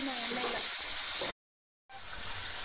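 Fenugreek seeds frying in hot oil give a steady, close sizzling hiss that cuts out briefly partway through and then resumes just as strongly.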